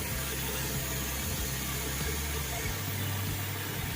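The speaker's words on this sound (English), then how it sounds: "the surface cleaner is breaking up the dirt" Steady loud rushing hiss of a pressure-washing surface cleaner working over a dirty paved surface, with a low motor drone underneath, continuous and close.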